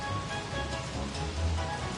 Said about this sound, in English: Alright, start raining frogs.